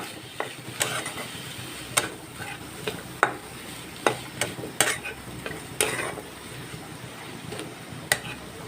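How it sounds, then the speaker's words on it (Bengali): A fish filling with cumin, salt and turmeric is stirred in a pan over a low flame, with scattered scraping and clinking strikes of a utensil against the pan over a faint low sizzle, no voices. "স্বাদ মতো নুন আর হলুদ দিয়ে আমি এটা হালকা ফ্লেমে একটু কষিয়ে নেব।"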